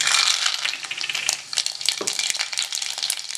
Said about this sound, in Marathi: राई आपली तडतडली आहे